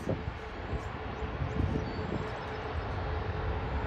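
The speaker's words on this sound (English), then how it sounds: "WestJet, Boeing 737 MAX 8" A WestJet Boeing 737 MAX 8 airliner at Toronto airport gives a steady, distant jet engine rumble and roar, moderately loud and unbroken throughout, with no talking.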